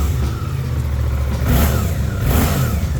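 The twin-cylinder engine of a 2024 Suzuki GSX-8R motorcycle rumbles close and loud, surging through two quick throttle blips over a low, throbbing idle, with no one speaking.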